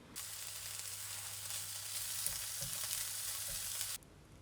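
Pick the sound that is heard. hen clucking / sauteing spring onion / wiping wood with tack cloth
sauteing spring onion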